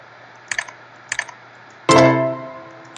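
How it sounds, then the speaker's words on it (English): Short bursts of clicking keys on a computer keyboard, two small clusters of taps followed by a louder, ringing clack that fades slowly, all close and alone over a faint steady hum. "We're just checking to make sure the keyboard still works."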